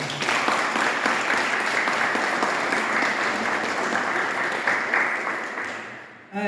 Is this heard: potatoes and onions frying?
no